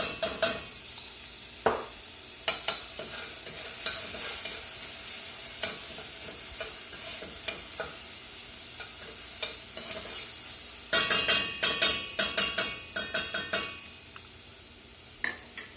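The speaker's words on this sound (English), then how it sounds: "Put a little more olive oil in there. And we're going to go in with a teaspoon of garlic, a heaping teaspoon." Garlic sizzling in olive oil in a pan for Orleans-style BBQ shrimp, a steady close frying hiss broken by utensil clicks and a quick burst of stirring scrapes near the end; no talking.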